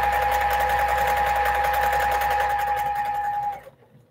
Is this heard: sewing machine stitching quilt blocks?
yes